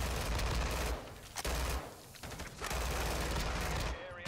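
Akimbo Desert Eagle pistols firing in Call of Duty: Modern Warfare 2, loud rapid bursts of gunfire in three dense stretches separated by brief pauses, with no talk over it.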